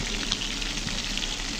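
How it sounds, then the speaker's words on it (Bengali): Chicken pieces frying in a pan with turmeric, chilli and spices as the base for chicken biryani, giving a steady close crackling sizzle throughout with no talk. "চিকেনগুলো ভাজা হচ্ছে,"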